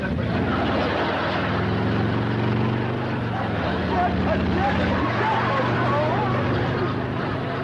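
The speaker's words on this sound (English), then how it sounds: "Some crazy kid is racing up down your driveway on a motorcycle." A motorcycle engine drones loudly and steadily nearby as a kid races it up a driveway, with the pitch shifting as the ride goes on, mixed under a busy soundtrack.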